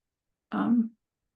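A single short, close throat clearing, a brief gravelly rasp in otherwise silence.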